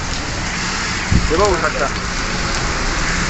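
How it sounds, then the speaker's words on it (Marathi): Steady rain falls in a hiss across a hill pass road, constant and fairly loud, with a brief voice speaking over it. "पाऊस यायला लागलेला आहे"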